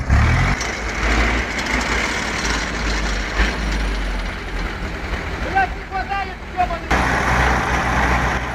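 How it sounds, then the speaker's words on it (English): Heavy diesel engines rumble and strain as a TDT-55 tractor tows a wood-laden ZIL 131 truck stuck on a muddy road, a loud continuous low drone with a voice talking over it. "TDT-55 assisted in pulling the truck across this road."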